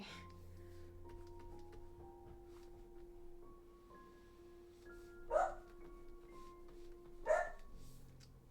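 A dog barks twice indoors, two sharp moderately distant woofs a couple of seconds apart over quiet room tone and a faint tonal hum.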